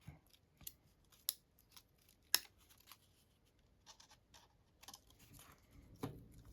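Scissors snip at a paper or fabric peony flower during trimming, a few sharp, close clicks spaced irregularly, with one louder cut in the middle.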